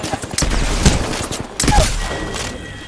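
Video game gunfire crackling in a few sharp bursts, with two heavier booming shots standing out over a dense, noisy background of in-game sound.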